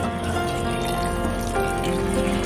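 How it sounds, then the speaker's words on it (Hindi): Water poured onto potted plants, including an aloe vera, in a steady continuous stream that runs unbroken and fairly loud throughout. "तो असली में पानी डालने वाले हैं, प्रैंक नहीं करने वाले हैं आज।"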